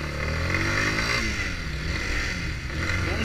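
A Yamaha Fazer 250 cc motorcycle engine runs loud and close, its rising and falling revs heard through wind rush while riding, with no talking.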